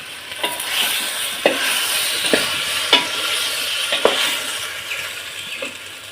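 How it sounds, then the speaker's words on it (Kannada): Okra frying in oil with onion and tomato, giving a steady close sizzle with occasional light taps and clinks from stirring. "ನೀರುಳ್ಳಿ ಟೊಮೆಟೊ ಹಾಕಿ ಬೆಂಡೆ ಹಾಕಿ ಅದನ್ನು ಫ್ರೈ ಮಾಡ್ಕೊಳ್ಳೋದು"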